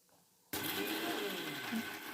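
Mixer grinder whirring as it grinds Oreo biscuit pieces in its jar, a loud steady motor roar starting abruptly after a moment of quiet and continuing with a slightly rising pitch, up close with no talk.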